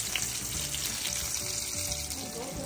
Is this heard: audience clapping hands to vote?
no